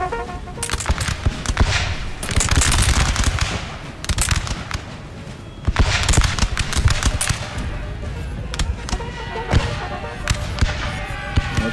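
Skirmishers fire muskets on a battlefield in Napoleon: Total War, a ragged crackle of overlapping shots, some sharp and close, others softer, scattered irregularly over a constant battle din.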